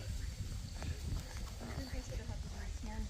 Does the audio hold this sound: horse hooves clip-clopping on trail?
yes